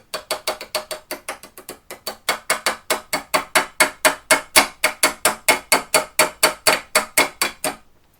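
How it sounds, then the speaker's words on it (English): A small hammer taps a retaining pin out of a Remington 700 trigger assembly in a long run of about thirty sharp metallic strikes, close and steady, speeding up and growing louder before stopping. "We're just going to tap it through."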